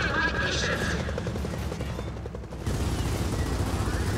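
Rockets and gunfire fill a Gears of War 4 battle: a dense, continuous roar of shots and blasts with a rumbling, helicopter-like drone underneath and voices talking over the din.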